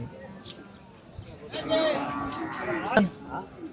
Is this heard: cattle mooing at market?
yes